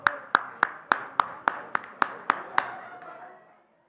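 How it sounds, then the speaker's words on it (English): A single pair of hands claps about ten times in an even rhythm at a town hall meeting, close and sharp, the last claps fading into a brief decay. "a round of applause"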